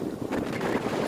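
Strong storm wind at the seaside in Cattolica, Italy, a loud continuous roar buffeting the microphone with no breaks.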